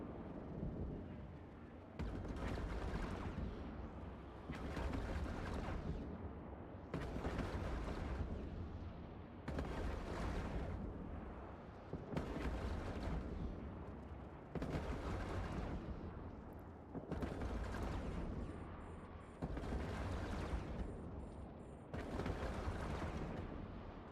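Gunfire in the video game Deus Ex: Human Revolution, heavy bursts of shooting and booming impacts arriving in regular repeated waves about every two to three seconds, loud and sustained, with brief lulls between bursts.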